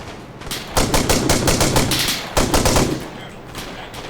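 Rapid automatic gunfire rattles in the military shooter game ARMA 3, with two long dense bursts separated by a brief pause, loud and close.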